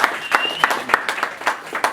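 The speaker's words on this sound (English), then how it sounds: "Y'all give Thomas another round of applause." A smaller group in an audience claps for Thomas, sparse and uneven, with distinct individual hand strikes in a loose rhythm close by.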